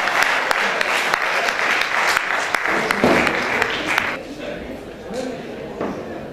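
Audience applause welcomes the poet Mansoor Afaq to the stage at a poetry recital, a dense, steady clapping that fills the room for several seconds before thinning out and fading.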